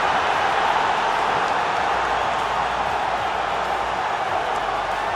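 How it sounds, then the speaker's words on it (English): A boxing crowd at a Subriel Matías fight keeps up a dense, sustained roar of cheering and shouting, loud and continuous throughout without breaks. "The crowd roaring him on."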